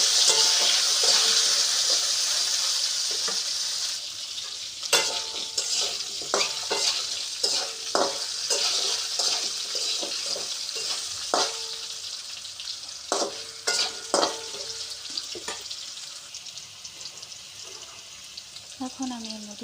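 Pabda fish being stirred with salt in a pan sizzles steadily, with a run of soft scraping stir strokes and light clinks in a loose rhythm over the frying hiss.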